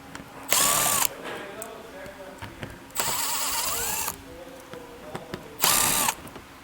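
Power tool with a 7mm socket spinning out fasteners on a 2026 Ford Escape front fascia, three loud close whirring bursts of roughly half a second to a second each, separated by quieter handling clicks.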